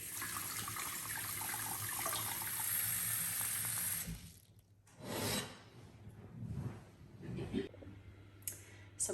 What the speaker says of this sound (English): we fill our pot with water too